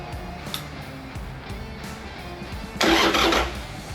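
A carbureted motorcycle engine that has sat unused a long time cranks with faint repeated turning-over sounds, then bursts into a loud, rough near catch for under a second before dropping back.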